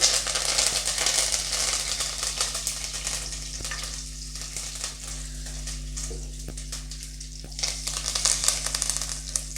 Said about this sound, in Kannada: ಇದಾಗೆ ಸ್ವಲ್ಪ ಫ್ರೈ ಮಾಡ್ಕೊಂಬಿಡಿ